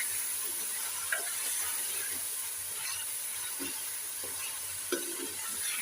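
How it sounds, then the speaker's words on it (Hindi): Beef pieces fry in masala for palak gosht, a constant hissing sizzle with intermittent spatula knocks and stirring scrapes, close and even in level. "गोश्त को अच्छी तरह भून लेते हैं।"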